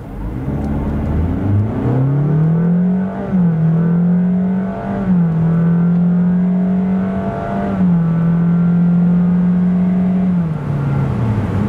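A 2025 Honda HR-V with the 1.5-litre 131 hp engine accelerates hard from standstill to 100 km/h. The engine drone is loud and close, rising and holding steady with a few brief dips, and no one speaks.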